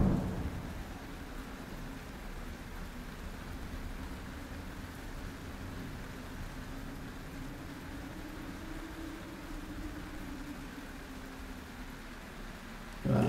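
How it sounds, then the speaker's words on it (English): Rain falling with low thunder rumbling, a steady hiss of rain over a continuous deep rumble at a moderate, even level. "And it's raining!"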